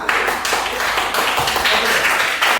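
A primary school class claps hands together after a group presents its discussion answers, a dense continuous patter of applause filling the room throughout.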